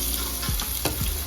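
Three medium-sized onions frying in lightly heated oil give a loud, continuous sizzle, with a few sharper crackles and stirring scrapes breaking through, close by.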